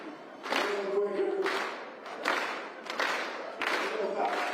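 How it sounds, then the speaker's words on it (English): A livestream crowd at the Broken Arrow Skyrace claps along in slow rhythmic bursts, each round of clapping rising and fading, fairly faint with a murmur of voices. "Clap with me."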